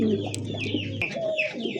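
A native Golla pigeon coos close by in a short burst, with a low steady hum underneath and faint chirpy bird calls around it.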